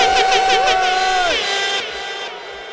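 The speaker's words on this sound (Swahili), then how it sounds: "Wapi vigelegele?" A crowd lets out high, wavering ululations, several voices trilling together loudly for about a second and a half, then fading into a softer murmur of crowd noise.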